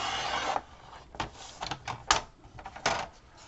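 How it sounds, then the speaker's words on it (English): A blade cuts cardstock for a card base in a series of scraping, slicing strokes with short pauses between them, close by and alone. "I'm going to go ahead and just start cutting"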